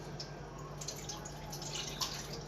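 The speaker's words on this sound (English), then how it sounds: "I'm going to carefully dump out my water." Water poured out of a container into a sink, a steady splashing trickle with small drips, close and continuous for a couple of seconds with no talking.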